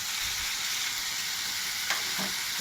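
Banana flower with ginger, cumin and green chilli paste, salt and turmeric being stirred in a hot pan, a steady close sizzle with a couple of brief scraping stirs.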